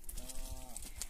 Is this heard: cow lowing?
yes